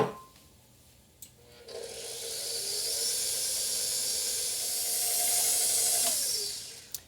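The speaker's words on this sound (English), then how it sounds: "we're just mixing this until it's combined" A steady, hissing scrape of gluten-free tart batter being mixed in a bowl, a continuous close rasp lasting several seconds before it stops abruptly.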